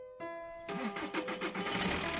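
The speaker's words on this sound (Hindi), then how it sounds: "उसके कदमों के साथ बस का इंजन अपने आप चालू हो गया" A bus engine starts as a horror sound effect: a brief tonal hum gives way to a rhythmic, pulsing crank that catches and settles into a steady, rumbling idle, close and alone.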